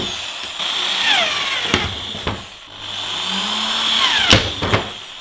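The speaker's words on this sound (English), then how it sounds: "We'll just drill a few holes in the corners so the jigsaw's got a spot to turn." A power drill whines steadily, drilling holes in the corners of a plastic bin lid, with short bursts and pauses between runs, close by and fairly loud.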